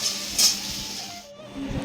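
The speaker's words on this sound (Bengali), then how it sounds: "মাছ ভাজা হচ্ছে। আর এখানে সিম ভাজা হচ্ছে" Fish and flat beans frying in a pan, giving a steady close sizzling hiss with a brief louder burst, then a quieter stretch and some faint kitchen clatter.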